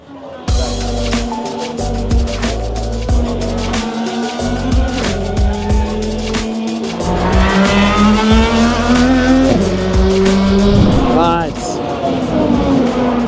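Indy 500 race cars scream past flat out between turns 1 and 2, engines whining loud and near in repeated rising and falling passes that overlap one another.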